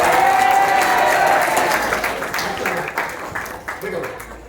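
A classroom audience claps for a student during a motivation and study-skills session, a dense steady wash of applause that starts loud and gradually thins out, with voices mixed in underneath.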